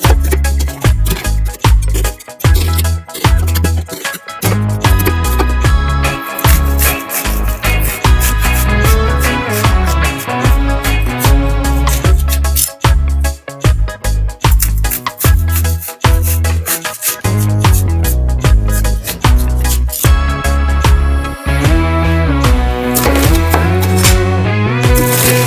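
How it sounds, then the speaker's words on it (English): An onion is chopped with a knife on a board in a home kitchen, rapid repeated knife strikes tapping loudly and closely in uneven bursts with short pauses. "now we can cut our onion"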